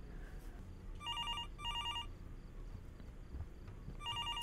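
An old telephone bell in the horror game Fears To Fathom: Norwood Hitchhike rings in bursts of rapid trilling double rings with pauses between, moderately loud over a low background rumble, with no talking.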